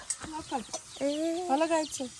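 Large chickens cluck and squawk close by in short, uneven bursts, with one drawn-out call in the middle.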